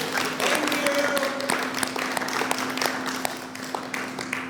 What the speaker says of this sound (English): Let's give Keith a round of applause and thank him for coming.